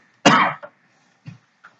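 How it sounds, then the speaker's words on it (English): One loud close cough is followed by two fainter throat-clearing coughs, with short silent gaps between them. "Why are you coughing, dude?"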